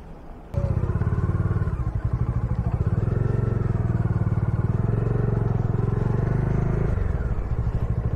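A motorcycle rides along a road near a Varanasi expressway service road, its engine thrumming loud and close under strong wind rumble, holding a steady drone after a brief quieter start.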